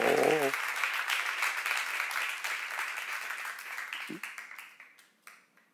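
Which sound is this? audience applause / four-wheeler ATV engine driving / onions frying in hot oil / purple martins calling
audience applause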